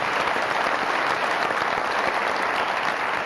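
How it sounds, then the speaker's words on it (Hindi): Sustained, dense applause from a TV comedy show studio audience, steady and loud throughout with no speech over it. "बहुत सारी तालियां दार साहब"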